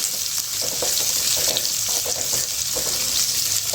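Potatoes fry in a pan with mixed vegetables and are stirred, a steady loud sizzle running throughout with soft scraping strokes of the spoon underneath.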